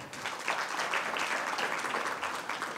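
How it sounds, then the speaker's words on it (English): Audience applause, a steady wash of many hands clapping, moderately distant and fairly quiet, lasting a few seconds. "Let's give a round of applause."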